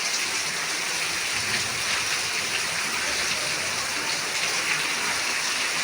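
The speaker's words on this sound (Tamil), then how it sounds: "திருப்பூர்ல மழை அடிச்சு ஊற்றுது பாருங்க." Heavy rain pours down steadily in Tiruppur, a dense, continuous hiss of water striking surfaces at close range with no break and no voices.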